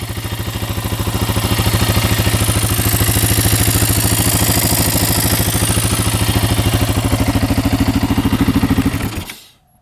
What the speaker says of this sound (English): Engine sounds good, no ticking at all.